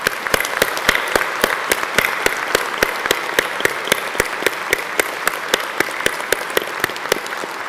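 A graduation ceremony audience at Swinburne applauds the graduates: sustained, dense clapping from a large crowd filling the hall, with sharp individual claps standing out near the front, steady throughout with no talking.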